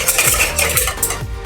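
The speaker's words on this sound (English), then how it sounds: "Give that a little bit of a whisk." Whisk rattles briskly against a bowl while a dressing is mixed, a short burst of quick metallic clinks and scrapes up close.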